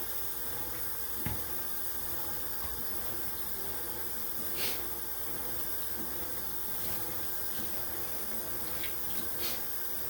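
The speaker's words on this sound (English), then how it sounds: "Use hot water so it sterilizes your board." Hot tap water runs steadily while a cutting board is rinsed, a continuous hissing splash with a few faint knocks and clatters, moderately close and without talk.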